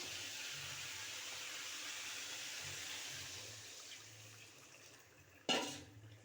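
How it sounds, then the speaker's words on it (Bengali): Water poured into a pan of soybean and potato curry: a soft, continuous hissing wash that slowly fades, then a sudden brief splash or sizzle near the end, quiet and close. "এবার পরিমাণ মতন জল দিয়ে দেবো"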